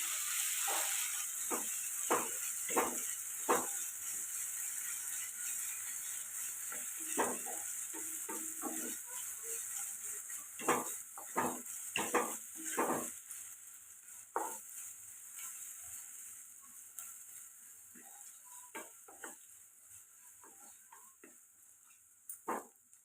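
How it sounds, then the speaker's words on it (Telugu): Ginger garlic paste fries in a pan for an egg curry. A quiet sizzle runs underneath while a spoon scrapes and stirs in sharp, irregular clacks that bunch together in places, with no voices. "ఇక్కడ అల్లం వెల్లుల్లి పేస్ట్ కూడా పచ్చివాసన పోయేదాకా ఫ్రై చేసుకున్నాం కదండి"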